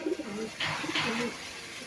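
Pigeon cooing, from a high-flying breed with dark eyes, comes as a couple of soft, close coos over a steady background hiss.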